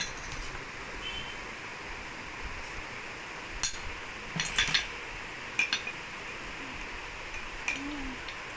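A homemade honey, curd and rice powder scrub being stirred in a bowl, with faint scraping and a few sharp clinks of a utensil against the bowl in a quiet room.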